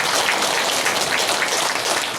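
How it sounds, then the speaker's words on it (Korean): Steady, dense applause from a large church congregation fills the whole stretch, clapping evenly without pause or voices. "하나님께 영광의 박수 올려드리겠습니다"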